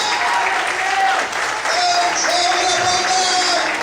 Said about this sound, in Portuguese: Será que você pode aplaudir?